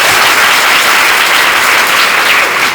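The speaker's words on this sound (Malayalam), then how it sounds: "അത് സത്യമാണെങ്കിൽ ഒന്ന് കൈയടിച്ച് കേട്ടാൽ" Loud, dense applause from an audience at a Malayalam worship gathering, steady and continuous with no voices over it.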